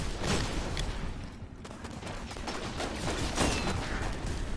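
Gunfire in the video game Destiny: dense, continuous weapon noise and mechanical clatter fill the scene at a steady, loud level with no break.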